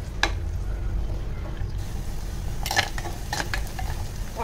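Ground masala paste goes into onions frying with curry leaves in a pan for a Malvani fish curry, giving a steady close sizzle broken by a few sharp stirring scrapes.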